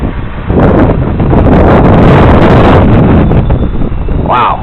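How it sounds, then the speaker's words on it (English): A strong gust of wind buffets an outdoor microphone during a hexacopter flight session, a loud, rumbling roar that swells and holds for several seconds with no speech over it. "Wow, that was a big gust right there."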